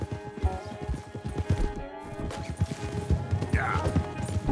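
In Red Dead Redemption 2, a horse gallops with rapid, rhythmic hoofbeats that sound close and steady. A brief whinny rises partway through, over a low background of game ambience.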